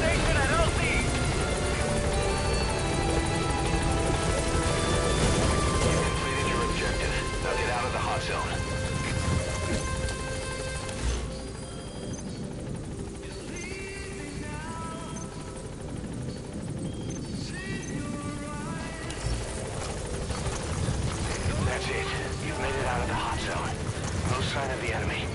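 B-Quad support helicopter from Metal Gear Solid V arriving at a landing zone: steady, loud rotor drone throughout, with a brief dip midway, under radio voices and game music.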